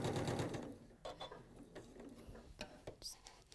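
Sewing machine stitching cotton fabric at a 2.4 stitch length, its motor whirring in several short bursts with brief pauses between, close and moderately quiet, with no talking over it.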